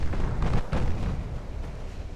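A torpedo strikes a ship in Ultimate Admiral Dreadnoughts, a heavy booming explosion followed by a second deep blast and a rumbling, fading roar of rolling impact noise.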